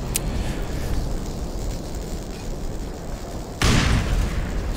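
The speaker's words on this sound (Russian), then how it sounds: "Сейчас я ему туда гранату закину." A grenade blows up in the video game Black Mesa, a loud, broad burst that cuts sharply into steady game noise near the end, after a small pop at the start.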